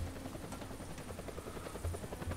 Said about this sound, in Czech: Helikoptéra, kde je helikoptéra?